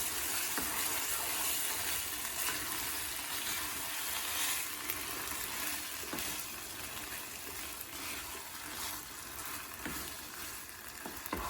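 Pav bhaji mixture with tomato puree being stirred in a pan, a steady close sizzle of frying with scraping stir strokes running throughout, loud and continuous.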